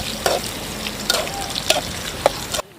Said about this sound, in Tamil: வெங்காயம் நல்லா உணங்க விடணும்